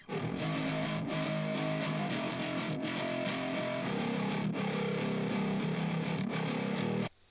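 A crunchy, gritty distorted bass guitar plays a thick, sustained low line with heavy saturation, loud and steady, before cutting off abruptly.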